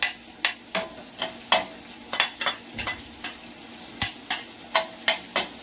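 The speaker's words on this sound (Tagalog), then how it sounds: "We're going to saute the onion." Onion sautéing in olive oil in a pan, with a spoon scraping and stirring in quick, repeated strokes over a soft, steady sizzle, close and moderately loud.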